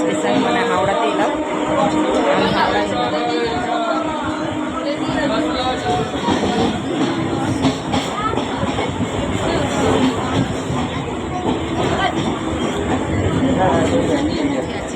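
Steady rumble and rattle of a moving commuter train near Dum Dum, continuous throughout, with voices murmuring in the carriage.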